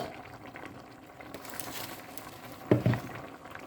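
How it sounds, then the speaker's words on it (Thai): Thai gaeng om chicken curry with vegetables simmers in a covered pot, a soft continuous bubbling hiss with a couple of brief louder knocks near the end. "ปิดฝาก่อนจ้าเดือดก่อน"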